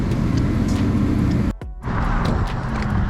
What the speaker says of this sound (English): I'll move my truck off the road.